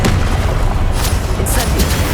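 Confringo spell from Hogwarts Legacy bursting in a booming, explosive blast, with low thumps and crackling pops layered over continuous game noise for about two seconds.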